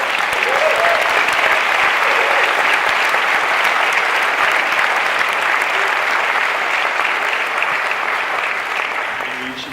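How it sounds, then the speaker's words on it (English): A theater audience at a New York Film Festival screening Q&A applauds the actors onstage, sustained loud clapping from a large crowd that carries evenly for nearly ten seconds before tapering slightly at the end. "You should deserve a round of applause."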